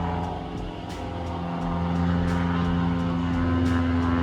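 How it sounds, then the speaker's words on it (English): A propeller airplane flying over a lake, its steady droning hum swelling slightly louder as it passes overhead. "Airplane is flying over just in time."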